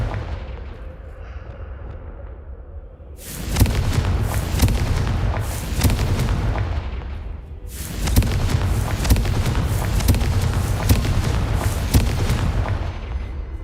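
Explosive spell blasts from the Hogwarts Legacy video game boom in two long, loud, rumbling bursts after a quieter opening, each crackling on with sustained debris-like roar.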